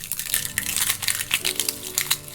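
Papery shallot skin being peeled by hand, a close run of crisp crinkling and small crackles with uneven bursts, fairly quiet and with no voice over it.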